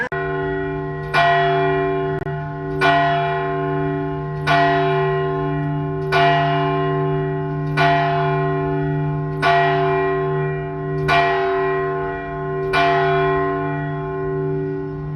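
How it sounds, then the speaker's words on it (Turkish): A church bell in Tirana, Albania tolls repeatedly at a slow, regular pace, each strike ringing out and decaying over a sustained low hum. "çan sesine de denk geldik."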